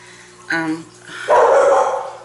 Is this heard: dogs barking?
yes